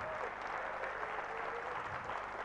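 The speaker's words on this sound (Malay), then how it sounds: "Berdiri, tepuk tangan tu anda." An audience stands and applauds, a dense, even wash of clapping from many hands that carries on steadily without a break.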